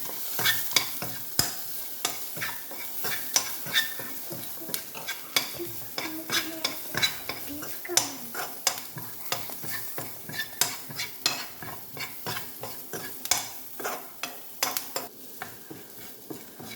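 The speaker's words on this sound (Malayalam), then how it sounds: "നമ്മൾ നന്നായിട്ട് മിക്സ് ചെയ്തെടുക്കുകയാണ്" Food with a crumbled Maggi cube is stirred and mixed in a sizzling pan. A spoon scrapes and clicks against the pan in a steady, close, irregular rhythm over a continuous fry hiss.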